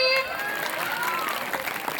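Clapping from a crowd at a school program, a continuous, fairly close patter under some faint voices and tonal sounds.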